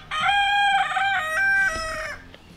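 A chicken roosting in a backyard coop gives a loud, close, drawn-out call in a few sustained squawking phrases, then falls quiet.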